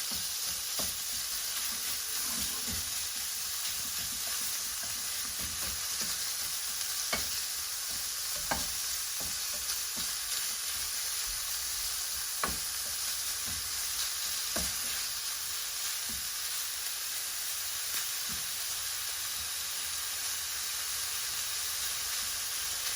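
Pork fries in a pan with ginger, garlic and chili, making a loud, steady, unbroken sizzle with scattered light clicks from stirring across the whole stretch, and no voices.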